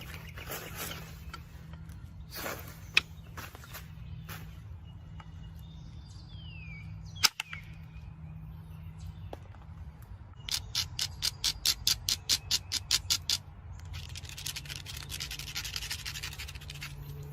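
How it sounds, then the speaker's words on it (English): Flint is worked by grinding its edge and then struck with indirect percussion, producing a quick run of sharp, evenly spaced scraping clicks and a single crisp tap over quiet outdoor background hum, with no talking. "grind the edge here, flip it over, and use the indirect. I'm going to push in, hit down."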